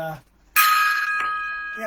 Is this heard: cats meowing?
no